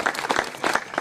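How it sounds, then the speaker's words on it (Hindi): Enthusiastic applause from an audience at a live Hindi-language event, a brief burst of lively clapping with distinct hand claps standing out. "एक बार जोरदार तालियां बजा दीजिए।"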